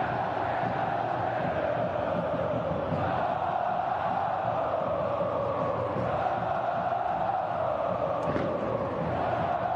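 A packed stadium crowd of Clube do Remo supporters at the Mangueirão, a dense continuous roar of many voices heard from a distance, steady throughout with a faint chant-like swell.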